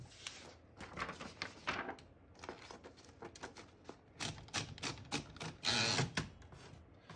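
Margin stops slid and locked into place on a 1922 Remington Portable typewriter: a series of close, dry clicks, taps and metallic clacks in irregular bursts, with no talking.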